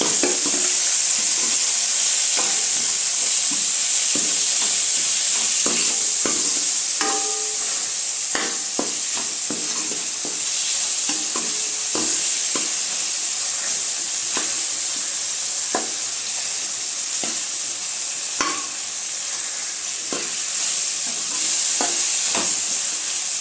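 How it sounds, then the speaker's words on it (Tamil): Tomatoes sauté in a pan for kalyana rasam, a steady sizzle and hiss running throughout while a ladle stirs and mashes them with frequent scraping clicks and taps. "தக்காளியை நல்லா இந்த மாதிரி கரண்டியில் நல்லா மசிச்சு விட்டுக்கோங்க."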